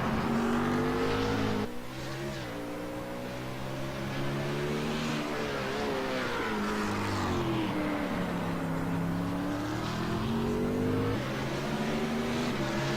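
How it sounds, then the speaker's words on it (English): A race car engine in a racing video game revs and roars continuously, pitch rising and falling through gear changes at steady loud volume, with no talk. "check on Wheel Damage driving the Twitch car today"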